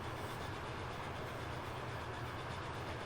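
Class 9 steam locomotive running in the game Transport Fever 2, a steady continuous rumble of train and rolling-stock noise, moderately faint and even throughout with no talking.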